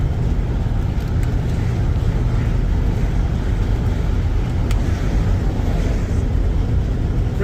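A car with a Jasper rebuilt 4L80E automatic transmission and rebuilt engine cruises on the road, a steady, loud low rumble of engine and road noise running throughout with no distinct shift break standing out.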